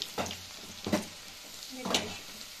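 Ingredients for chilli chicken fry in a pan and get stirred until browning, a soft sizzle broken by three distinct scraping stir strokes, close and quiet with no talk.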